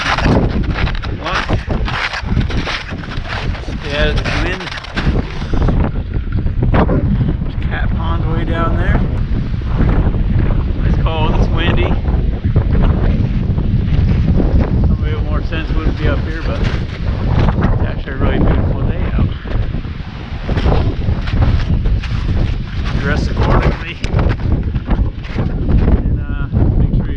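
Strong gusting wind buffets the microphone on a winter mountain hike, a loud, rough roar that runs throughout, with a voice talking over it in places.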